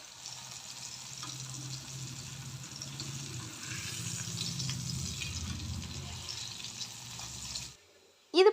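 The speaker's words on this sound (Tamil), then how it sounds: "இது போல் நல்லா ஃப்ரை பண்ணிவிட்டு இதை நம்ம வெளியில் எடுத்துடலாம்" Pieces of elephant yam fry in hot coconut oil, a steady close sizzle and crackle with stirring underneath, running for several seconds before stopping abruptly.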